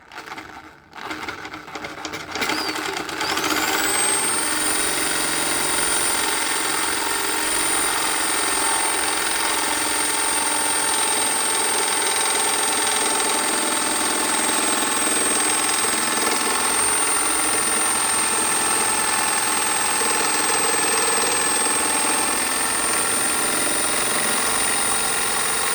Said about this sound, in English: we have recently brought this attachment for my drill machine